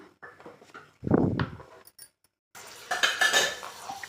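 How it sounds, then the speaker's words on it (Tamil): Knife cutting raw mango into slices on a board, a few close, sharp clacks and scrapes with short pauses between, then a rattling burst of utensils near the end, no voices. "இதை வந்து நல்லா ஸ்லைஸாக கட் பண்ணிக்கலாம்"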